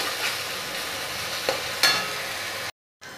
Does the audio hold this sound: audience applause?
no